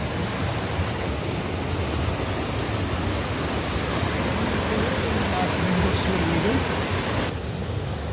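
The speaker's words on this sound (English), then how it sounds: "That waterfall." Steady broadband rush of a waterfall on a country walk among ferns and plants, a continuous roar that stays loud and unchanging throughout, with no clear voices over it.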